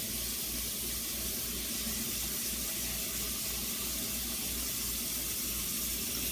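Corn on the cob rinsed under a running kitchen tap, a steady close water rush and hiss lasting throughout with no voices.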